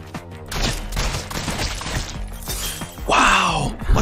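Fast bursts of cartoonish gunfire and impact effects from the video game Rounds play in quick succession, dense and chaotic, with a player's voice exclaiming over the action.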